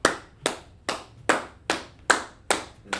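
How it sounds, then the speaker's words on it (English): A few people clapping in a slow, even rhythm for a student in a classroom, eight sharp distinct claps about 0.4 seconds apart, close and clear with no talk. "Clap it up for her."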